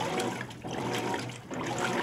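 A Hotpoint GE top-load washer fills with water, a continuous broadband rushing and splashing that holds steady and fairly loud throughout, with a brief dip midway and no voices.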